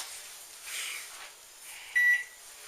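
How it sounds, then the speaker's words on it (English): A kitchen timer goes off once, giving a short, clear electronic beep of about a fraction of a second, heard close by over quiet room noise while broccoli rice casserole comes out of the oven. "My timer should be going off just about now."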